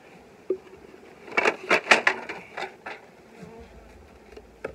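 A low buzzing drone of honeybees at a hive with several sharp rising swells in the middle, moderately close and steady, no talking.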